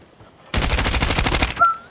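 Gunfire in the Call of Duty video game: a dense automatic burst of rapid shots lasting about a second, loud and close, followed by a brief whine.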